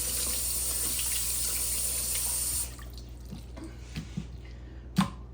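Tap water runs steadily and loudly over raw chicken pieces being rinsed in a kitchen sink while preparing chicken soup with dumplings, then cuts off about halfway, leaving a few faint knocks and drips.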